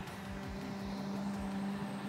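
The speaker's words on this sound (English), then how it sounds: "Here comes the garbage truck." Garbage truck rolling down a residential street outside, a steady low engine drone passing at moderate distance, fairly faint and continuous with no talk.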